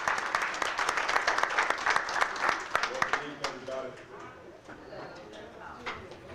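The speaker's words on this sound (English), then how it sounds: "Please give him a round of applause." An audience at a public conversation event in Selma applauds, a dense wash of clapping that holds steady and then thins out toward the end.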